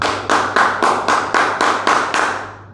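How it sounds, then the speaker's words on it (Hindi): About eight sharp, evenly spaced claps ring out loud and alone, each followed by a reverberant tail, as a respectful welcome and honour for someone. "तो उनके लिए सम्मानपूर्वक तालियां, अभिवादन बनता है।"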